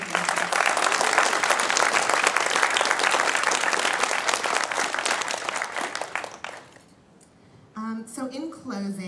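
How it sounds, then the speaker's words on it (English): An audience at a 4.3 iOS demo day gives loud, dense applause for volunteers that holds steady for several seconds, then tapers off before a voice begins speaking. "So one last really big round of applause for our Access Code volunteers."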